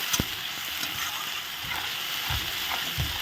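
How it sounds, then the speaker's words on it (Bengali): Cumin, coriander and ginger paste sauté in a hot pan, giving a steady, close hiss of frying with a few soft scraping ticks from stirring. "এখন ভালো করে কষাতে শুরু করব"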